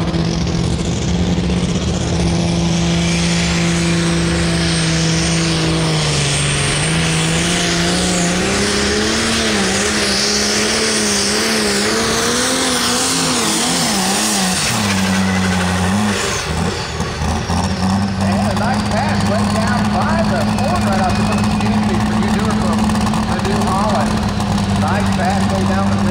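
A pulling tractor at an OSTPA truck and tractor pull at the Greene County Fair in Xenia, Ohio roars loudly and continuously, its engine pitch sagging briefly partway through before climbing back to a sustained, strained howl.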